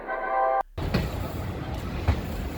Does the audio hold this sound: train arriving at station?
yes